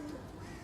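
Pigeons cooing near a loft while high-flyer pigeons are being trained for release, a soft low coo repeating steadily and close by with no talk over it.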